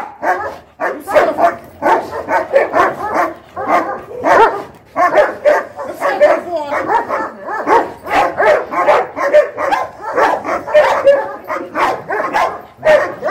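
A male guard dog barks fiercely and nonstop during an aggression test, loud and close, with rapid, evenly spaced barks and occasional yips repeating throughout.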